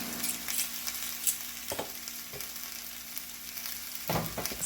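Spicy South Indian crab roast sizzles steadily in a hot pan with masala, a dense crackling hiss running throughout with a few louder spits and stirring bursts, no talking.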